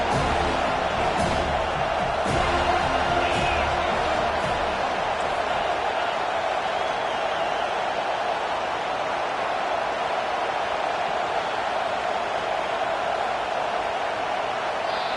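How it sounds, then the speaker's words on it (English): A stadium crowd at a Pitt versus FSU football game roaring for the defense on third down: a loud, steady wall of massed noise that holds throughout without letting up. "Decibels rising as the crowd gets behind this defense on third down."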